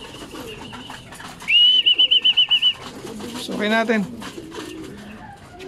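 Pigeons coo near the mic, with a rapid pulsing call followed by a rising, throaty coo, while people talk over steady background noise.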